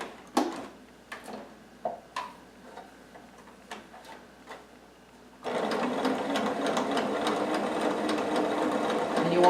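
Sewing machine stitching fabric for a pin cushion, first a few scattered clicks and ticks as it is positioned, then a steady whirring run of stitching that continues to the end.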